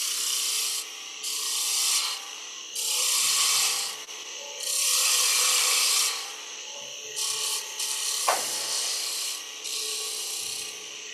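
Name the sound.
spindle gouge cutting a chamfer on a wood lathe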